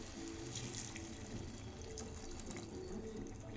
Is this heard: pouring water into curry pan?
yes